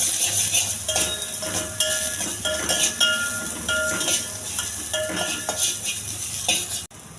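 Garlic, dried red chillies, peppercorns and onions, with cumin, ajwain and fenugreek, sizzle in a hot pan as a Telugu rasam tempering, a steady frying hiss broken by metallic clinks of a spoon against the pan.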